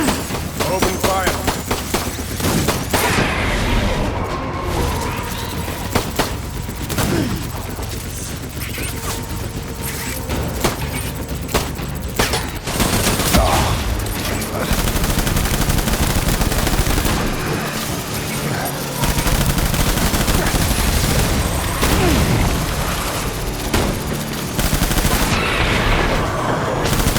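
Gunfire in the Death Stranding video game: dense, loud bursts of automatic and single shots with booms, sustained throughout a battle scene, with voices shouting over the shooting.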